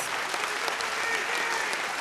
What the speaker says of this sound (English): A final big round of applause, please, for all our sponsors and production partners